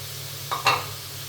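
A brief scrape and soft sizzle as fried potatoes drop into a hot pan of sizzling spices, over a low steady hum.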